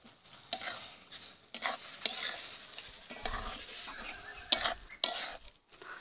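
Semolina added to milk in a pan and stirred, uneven scraping and clinking of a spoon against the pan with a light sizzle beneath, close and moderately loud, no talk.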